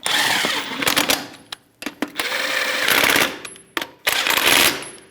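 A Toyota RAV4 wheel's lug nuts are run down with a 21mm socket on an impact tool in a star pattern, giving loud, close bursts of rapid rattling with short pauses between each nut.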